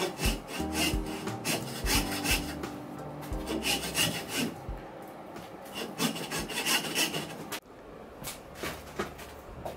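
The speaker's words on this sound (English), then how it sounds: "Do this by first cutting into the joint like this." A hand saw cutting a slot into a wooden joint for a necklace case, with rapid back-and-forth rasping strokes in a steady rhythm, close and continuous, pausing briefly near the end before resuming more faintly.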